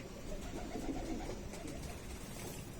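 Kasni pigeons in a loft give faint, low cooing over a steady background hum, with no voices.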